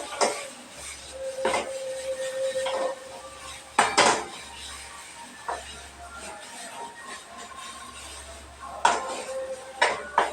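A utensil stirs and scrapes pointed gourd peel mash, seasoned with amchur powder, in a pan: close metallic clinks and scraping in irregular bursts with a low steady hum beneath.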